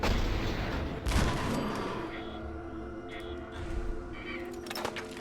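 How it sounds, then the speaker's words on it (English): Gunfire in the video game Fallout 4 comes as a loud opening shot, then scattered reports over a steady droning background that lasts throughout. "Shoot it before they're able to get a shot off."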